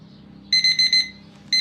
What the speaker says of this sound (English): Timer's gone